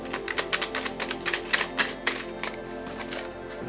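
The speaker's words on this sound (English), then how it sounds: "So I just used the Divine Doors deck to shuffle some more cards for you." A Divine Doors tarot card deck is shuffled close up, giving a rapid, uneven run of crisp papery taps and riffles with no talking.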